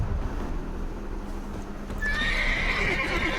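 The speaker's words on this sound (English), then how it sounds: "I don't know what's happening with my horse, just ignore him" A horse in The Witcher 3 video game gives a loud, shrill neigh that starts about two seconds in and carries to the end, over soft clip-clopping hooves and low rumbling background.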